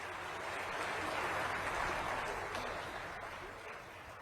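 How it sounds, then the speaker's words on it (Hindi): Audience applause at a government event with the Chief Minister and Prime Minister, a steady wash of many hands clapping at moderate volume that swells slightly and then fades. "जोरदार तालियों के साथ"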